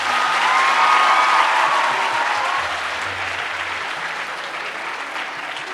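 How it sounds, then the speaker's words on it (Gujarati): Audience applause at a school gathering, a dense, sustained wash of clapping that is strongest at first and slowly tapers off, with faint crowd murmur beneath. "જોરદાર તાળી વગાડશો"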